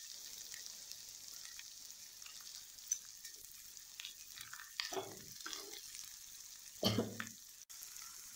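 A cauliflower pepper dish is stirred in a hot pan, giving a faint steady sizzle with a few soft scraping stirs clustered near the end, quiet and close, with no talking.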